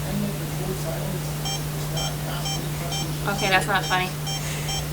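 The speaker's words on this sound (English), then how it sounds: "Can you turn off the meter, please, and stop the beep?" Electronic meter on a stage gives a series of short, evenly spaced high beeps over a steady hum, with people talking nearby.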